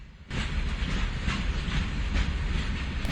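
A passenger train on the Jand to Attock line in Pakistan enters a railway tunnel, a loud continuous rumble and roar swelling suddenly and holding steady with rattling wheels throughout.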